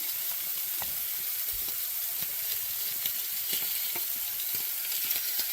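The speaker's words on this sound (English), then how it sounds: "as you can hear, the steaks are sizzling" Loud, continuous sizzling of ribeye steaks frying in a hot cast iron pan, a dense crackling hiss with occasional sharper pops and no talking.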